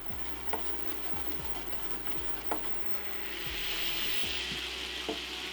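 Lemon juice simmering and reducing in a pan used for salmon, a faint, even sizzle with occasional small ticks and pops, growing slightly fuller toward the end.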